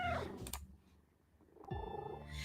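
A pet cat purrs steadily up close, a low rumbling drone that swells and fades, joined by a couple of short vocal cries at the start and near the end.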